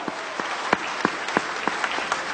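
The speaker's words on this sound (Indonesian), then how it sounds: "Oke, tepuk tangan" Applause from a seated audience at a sales seminar in Surabaya, a dense steady wash of clapping with a few sharper individual claps standing out, fairly close and continuous with no talking over it.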